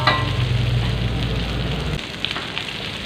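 Green eggplant stir-fry being stirred in a hot pan, a steady close sizzle and crackle of frying, with a heavier low rumble in the first two seconds that then thins to a lighter hiss with faint scrapes.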